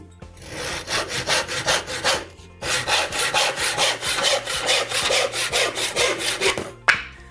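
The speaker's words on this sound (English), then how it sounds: "You can cut them down using your hand saw." A hand saw cuts through pallet wood clamped on a workbench, a steady rhythmic rasp of about ten quick strokes per burst in two runs with a brief pause between, close and alone.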